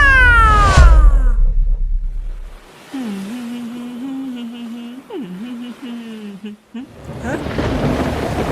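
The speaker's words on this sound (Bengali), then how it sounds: "অমনি মেঘ চিরে নেমে আসে বাজের বেগুনি আলো প্রচন্ড শব্দে কান ফেটে যায় বাজ পড়ে" A stormy thunder and lightning strike opens with a loud, deep rumbling crash and descending crackle, fading into a long wavering wail-like tone before a rushing noise returns.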